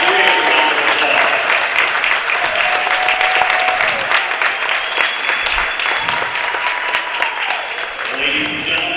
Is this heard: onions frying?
no